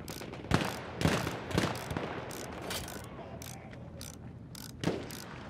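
Clanking, ratcheting metal knocks as a tank is repaired in the video game Battlefield 1, several sharp mechanical hits in an uneven rhythm, fairly close, with battlefield noise underneath.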